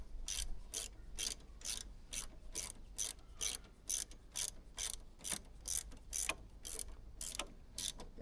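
Toothed adjuster on a motorcycle being ratcheted, giving a steady run of crisp, evenly spaced clicks about twice per second, close and fairly quiet, with no voices.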